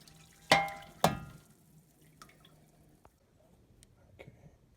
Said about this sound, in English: So I'm just going to dump this back into the waste bucket.